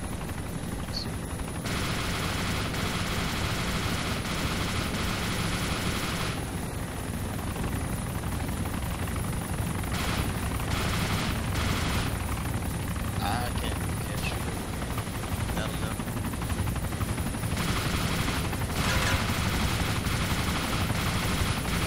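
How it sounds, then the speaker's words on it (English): Continuous rotor-like aircraft drone with bursts of rapid gunfire scattered throughout, sounding like game effects, with a voice occasionally speaking over it. "there's lots of flying and shooting going on"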